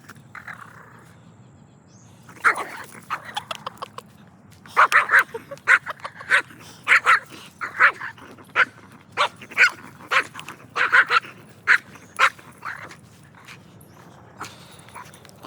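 A small, strong dog out on a street gives repeated sharp yips and barks mixed with whimpers, steady and fairly close, over quiet outdoor background.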